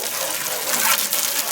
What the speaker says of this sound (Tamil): கொஞ்சம் தண்ணி போஸாக வரும்.